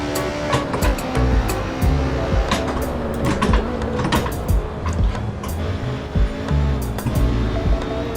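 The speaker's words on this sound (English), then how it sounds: "You can always hear the tires sliding away." Race car in Assetto Corsa with an H-pattern shifter, tires sliding and squealing through corners: a continuous engine whine with repeated sharp clicks and shifting thumps.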